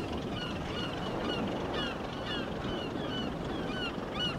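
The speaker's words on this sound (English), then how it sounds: "some seagulls are flying over us." Seagulls call overhead at sea, several scattered cries rising over steady wind and water noise, fairly faint and distant.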